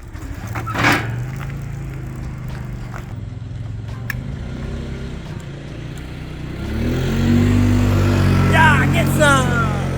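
A KTM SX-F 450 dirt bike engine runs outdoors, a steady low idle that rises into a louder, rougher revving toward the end, with people talking nearby and some clattering handling noise.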